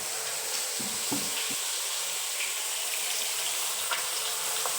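Oil sizzles steadily as turmeric-and-salt-coated katla (catla) fish fries in a pan, a constant hissing crackle with a few faint clinks, no voices.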